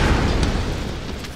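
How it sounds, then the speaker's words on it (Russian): A gas explosion goes off in the video game Tomb Raider. It is a loud, dense, rumbling roar that holds steady through the whole moment. "Так, взрываем газ."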